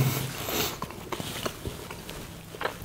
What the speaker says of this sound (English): It's beautiful and soft on the inside, but crunchy with the almonds.